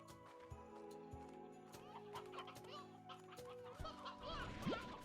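Hen clucking in a farm-management video game, with short repeated clucks amid busy in-game effects and music, and a rising tone near the end.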